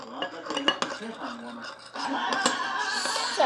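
Homemade slime made with body wash being stirred in a bowl, wet scraping and clinking of the utensil against the container, close, with brief talk and light laughter.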